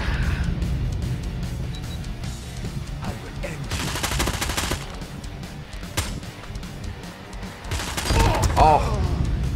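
Hip-fired gunfire in a multiplayer shooter video game, bursts of shots rising and falling among game effects and background music, with a voice talking over parts of it.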